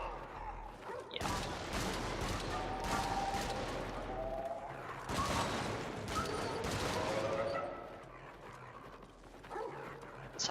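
Rapid bursts of gunfire in the Helldivers video game, dense and mechanical, clattering almost continuously at a fairly low level with brief pauses, while voices talk in the background.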